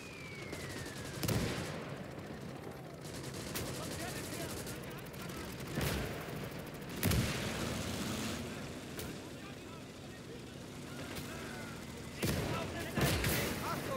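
Bursts of WWII gunfire sound at intervals in Call to Arms: Gates of Hell, with sharp cracks over a steady battlefield rumble and tank engines, while someone talks over the combat.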